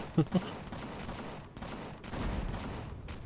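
Rapid turret gunfire in the space game Empyrion on a barren moon, a dense rattling stream of shots with a couple of louder bursts near the start, continuous throughout.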